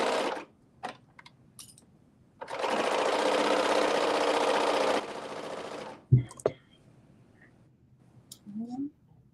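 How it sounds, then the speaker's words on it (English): A sewing machine stitches the back seam of a dress in one steady whirring run of a couple of seconds, framed by soft handling clicks and brief talking. "sewing the back seam pieces together"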